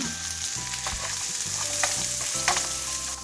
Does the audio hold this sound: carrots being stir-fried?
yes